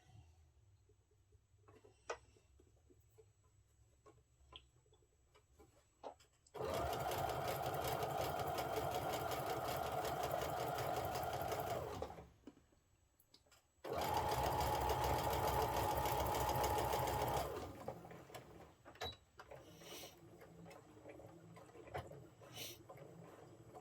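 A sewing machine stitching a quarter-inch seam on a quilted table runner, with two long runs of steady, close motor hum and needle clatter separated by a brief stop and quieter handling noises before and after.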